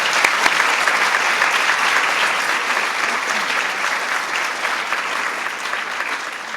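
Sustained applause from an audience honoring military spouses and mothers at a White House Mother's Day event, a loud, dense wash of many hands clapping, steady throughout with no talk over it.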